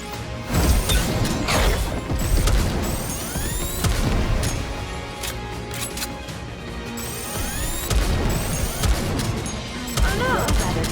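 Dense, loud video game gunfire with rapid bursts, crashes and booms, mixed with whizzing effects and a lively backing score throughout.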